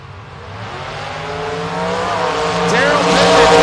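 A first-generation Camaro launches down a drag strip at a bracket racing event, its engine roar building steadily and growing louder over a few seconds, with an announcer talking over the racket.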